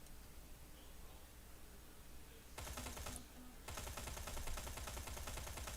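Automatic gunfire from the video game Terminator: Resistance bursts in after a quiet stretch, two rapid, rattling volleys with a brief pause between them, loud and close over a low background hiss.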